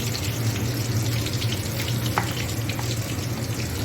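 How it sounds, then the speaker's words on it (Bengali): Salted Bombay duck fish, coated in salt and chili, fries gently in a wok with a soft, steady sizzle and bubbling oil, quiet and continuous with no talking. "এবার এটাকে আমি কড়াইতে ভাজি।"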